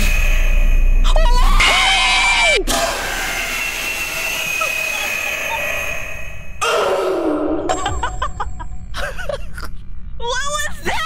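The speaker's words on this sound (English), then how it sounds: "That shriek was so loud, dude." A loud monster shriek blasts out during a Roblox FNAF co-op horror game, with bursts of harsh, screeching noise and sharp clanging. Players shout and yelp in alarm around it.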